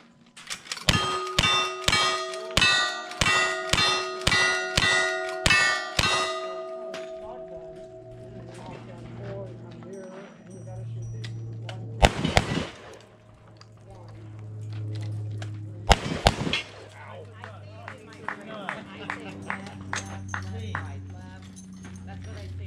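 Pistol shots ring steel targets on a shooting stage, about eight quick cracks each followed by a metallic ping, then a few sparse louder shots over a low hum with voices in the background.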